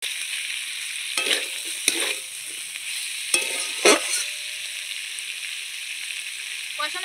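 Cauliflower curry with coconut paste being sautéed in a pan, a constant sizzle broken by several scraping stirs of the spatula, close up and with no one talking.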